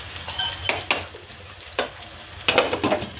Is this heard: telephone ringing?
no